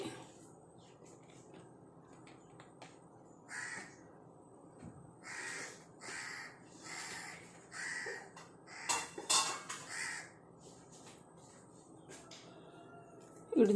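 Several harsh crow caws ring out outdoors in a rhythmic run, moderately near, followed by a burst of clattering and a faint scrape, over a quiet background.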